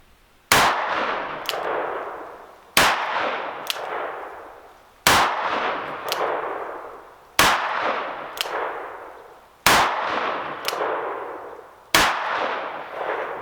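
A Taurus M44 stainless .44 Magnum revolver with an 8-3/8 inch barrel fires six single shots at a steady pace of about one every two seconds, each a loud, close, booming crack with a long ringing decay outdoors.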